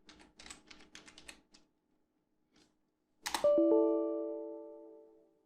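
Keys clack in a quick burst of about a dozen light taps on a computer keyboard while a MySQL command is entered, followed after a pause by a sharp click and a ringing chime-like tone that slowly fades.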